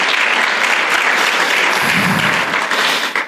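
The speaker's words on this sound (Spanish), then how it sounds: "Dale un fuerte aplauso a tu Señor." A congregation in a church claps together for their Lord, a dense, loud, steady wash of applause from many hands that fades out in the last moment.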